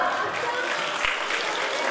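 A crowd applauds a dancer at a dance competition held in an Indian Embassy auditorium, giving steady, dense clapping throughout at an even level.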